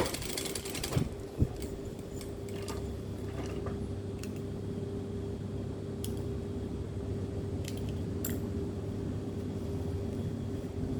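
A sewing machine stitches an invisible zipper into stretchy fabric, a steady low mechanical hum running throughout, with a few sharp clicks and handling knocks near the start.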